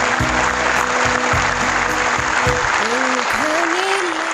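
An audience at an award ceremony for Ethio-American business honorees applauds loudly and steadily throughout, a dense wash of clapping with voices calling out over it.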